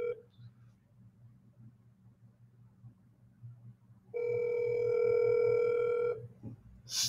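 A phone call rings out on the line while waiting for voicemail to pick up: a single steady electronic ring tone of about two seconds, moderately loud, over a faint low background hum.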